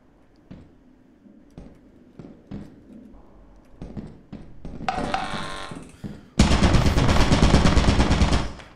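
Video game turret firing in a loot room, starting with scattered sharp single shots, then swelling into a loud, continuous stream of rapid automatic fire near the end.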